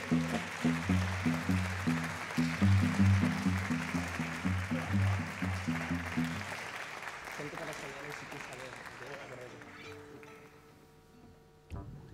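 Audience applause for a double bass player at a live music performance, a broad wash of clapping that swells early, then gradually thins and fades as the band's instruments carry on underneath.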